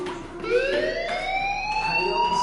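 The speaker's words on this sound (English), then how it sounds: "Hey, do you hear that fire alarm?" A fire alarm in the video game Life is Strange wails with a rising, sliding electronic tone, loud and steady with layered harmonics, sounding alone without talk.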